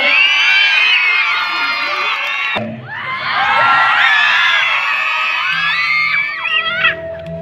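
A crowd of students at a school exam-discussion event cheers and whoops loudly, with a brief dip before the excited shouting rises again and continues to the end.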